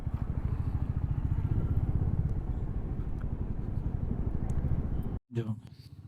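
A motorcycle rides through the narrow lanes of Nathdwara (Shrinathji), its engine a steady close rumble with road clatter throughout, then a brief cutout and a short burst of sound at the end.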